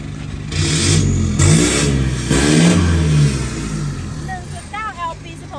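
A nearby Isuzu D-Max 1.9L pickup engine revs hard in three quick bursts, each roaring up then dropping back, before idling down to a rough rumble.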